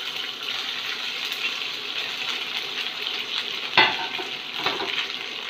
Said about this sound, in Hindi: उसमें तुरंत ही हम मुठिया को छोड़ देंगे।